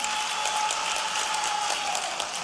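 A rally crowd claps steadily for their MLA, a dense, even wash of applause that holds throughout without pause.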